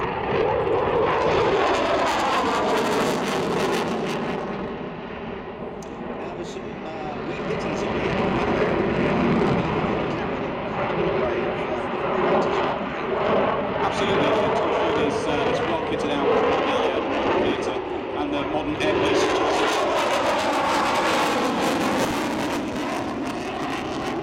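Eurofighter Typhoon jet flying at an air show, a loud sustained engine roar rising and falling as it passes, with a brief dip then swelling again, heard alongside a commentator's voice over the public address.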